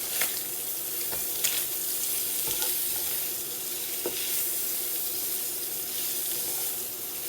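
Sweet Italian sausage meat with a pinch of sugar fries fast in a skillet, giving a continuous hissing sizzle with occasional clicks and scrapes as it is stirred, close and moderately loud.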